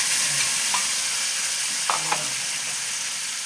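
Ground spice paste hits fried onions in a pan for a stuffed ridge gourd dish, giving a steady close sizzle broken by a few scraping stirs of a spatula, then cutting off abruptly.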